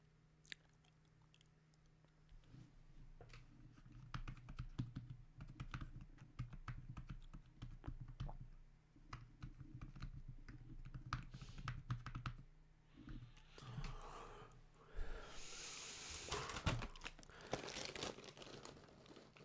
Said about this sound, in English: You can hear me tapping on my keyboard on the left side